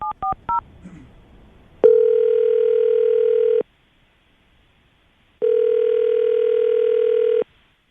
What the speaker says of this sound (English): we're going to call Lisa right now, get her on the phone